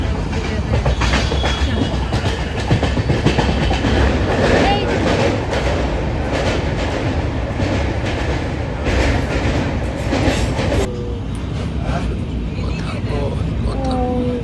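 A train near Varanasi rumbles and clatters along steadily throughout, with people talking over the continuous rolling noise.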